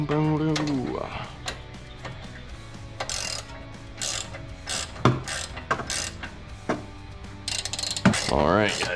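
Ratcheting wrench cinching the spreader bolt on a BC Racing coilover for a VW MK7 GTI, heard as a series of quick clicking pulls in bursts under a steady background hum, with a voice talking briefly at the end.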